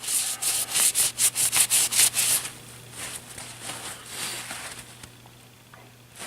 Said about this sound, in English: I'm going to just wipe down the whole bolt. Or bolt carrier, I mean.